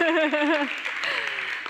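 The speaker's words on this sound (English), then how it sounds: "we have some applause here in the room" Brief, light applause rises in a conference room right after a voice speaks, a soft patter of clapping that fades within about a second.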